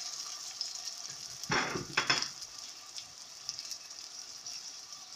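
Onions and tomatoes frying in a pan for a mushroom stew give a steady soft sizzle, with a brief louder burst of stirring or crackle partway through and no voices.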